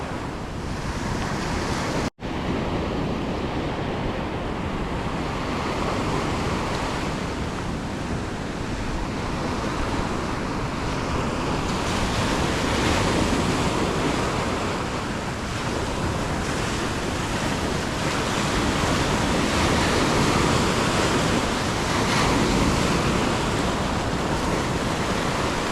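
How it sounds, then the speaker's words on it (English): Surf breaking along a beach near a lake entrance rolls as a steady, loud wash of broadband roar that swells and eases over the whole stretch, with wind buffeting the microphone and no voices, after a brief dropout near the start. "there's a bit of a wave breaking out the front here"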